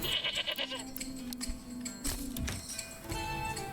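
Goats bleat in the medieval city-building game Manor Lords, several quiet wavering calls over faint game ambience, with no talk.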